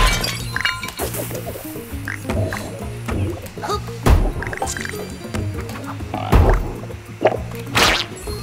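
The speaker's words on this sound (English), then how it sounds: "Kill the frog!" Frog enemies croaking in the Marsupilami: Hoobadventure video game, short croaks and hits mixed with cracking, smashing game effects and brief voice in a busy, uneven stream.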